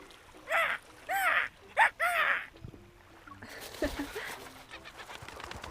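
Loud bird calls from a beach scene in the video game Love and Deepspace: four sharp, rising seagull-like cries in quick succession, then a softer, busier stretch of chatter and flapping over a quiet background.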